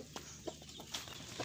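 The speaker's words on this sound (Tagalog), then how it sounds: "At dito papakita ko sa inyo yung manok natin mga kaparming." Backyard chickens give a few faint, scattered clucks over a steady low hum, with no voices.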